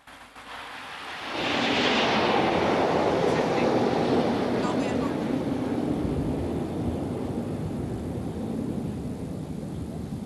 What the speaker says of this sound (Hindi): और अब बारी है प्रशिक्षण के लिए उपयोग में लाए जाने वाले हॉक लड़ाकू विमानों की।